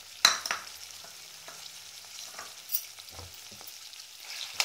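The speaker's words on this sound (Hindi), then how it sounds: "और अब मैं इसको मिक्स करूँगी थोड़ा सा थोड़ी देर तक।" Chicken and garlic are stirred in a frying pan with mushrooms, a quiet sizzle running underneath scattered scrapes and taps of the spoon against the pan.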